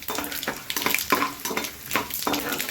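Tempering for mango pulihora sizzles and spits in a hot pan, a steady frying crackle broken by repeated scrapes and stirs of a spoon against the metal, close and moderately loud with no talking.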